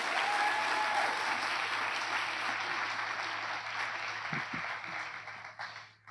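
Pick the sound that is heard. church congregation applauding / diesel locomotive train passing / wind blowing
church congregation applauding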